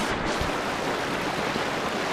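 Rushing water of the Goit Stock Waterfall pours in a steady, loud, broadband roar heard from a rock in the middle of the falls, unbroken and alone.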